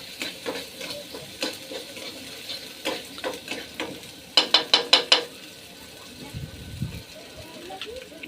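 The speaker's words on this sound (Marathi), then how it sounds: "तळा कांदा लसूण कढीपत्ता" Onion, garlic and curry leaves fry in a pan for a potato dish, with a continuous sizzle under rhythmic spatula scraping, including a quick burst of sharp clacks near the middle, while a voice talks nearby.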